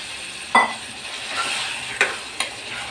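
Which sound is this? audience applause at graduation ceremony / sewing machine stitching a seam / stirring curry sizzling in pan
stirring curry sizzling in pan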